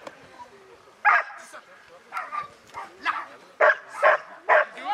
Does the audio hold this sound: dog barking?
yes